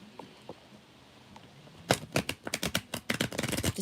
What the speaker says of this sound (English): Just trying to give it a really good shuffle.